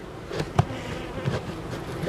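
Honeybees buzz around a narrow hive entrance in an apiary, a steady low drone with a few closer bees passing the microphone in short louder swells.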